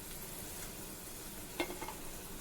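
Taro (arvi) pieces fry in hot oil in a kadhai, giving a steady close sizzle throughout with a brief clatter of stirring near the end, no voices.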